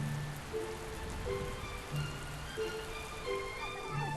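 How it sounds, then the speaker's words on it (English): Late-April rain falling in Santa Kiri, Thailand, a steady soft patter of drops on surfaces with a few faint tonal hums in the background, no voices. "At the end of April, it finally rains in Santa Kiri."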